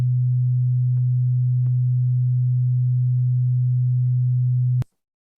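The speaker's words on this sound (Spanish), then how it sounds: "el speaker del auricular se va a mover 125 veces por segundo y suena así" A steady 125 Hz sine test tone plays through a PC or headphone speaker, a single low, unbroken hum held for nearly five seconds before cutting off abruptly.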